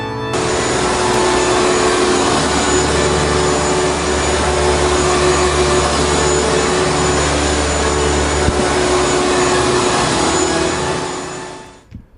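A vacuum cleaner drones steadily at close range for about twelve seconds, a loud constant whine and roar, then shuts off and winds down at the end.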